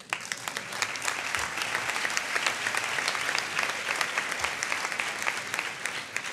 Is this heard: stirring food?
no